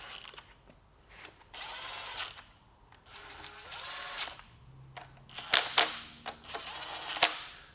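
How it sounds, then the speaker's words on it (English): An impact tool runs in several short whirring bursts of about a second each while a Toyota 22RE engine is assembled, followed by sharper clicks and clacks, close and fairly loud. "I probably shouldn't use impact tools to assemble this motor"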